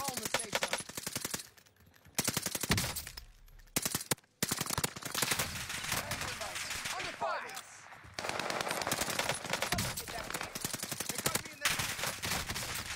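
Call of Duty Warzone gunfire comes in rapid automatic bursts, repeated sharp shots broken by short pauses, with players talking over and between the volleys.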